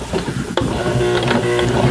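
Sewing machine stitching slowly over a thick jeans hem, hand wheel turned and foot barely pressed, giving a steady mechanical whir with faint rhythmic needle ticks close by.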